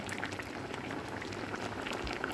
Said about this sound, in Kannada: ನೋಡಿ, ಕುದಿ ಬರ್ತಾ ಉಂಟು